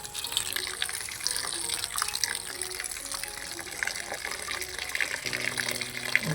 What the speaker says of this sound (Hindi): अब मैं इसको उतार के ठंडा पानी ऊपर बहाऊंगा अच्छे तरीके से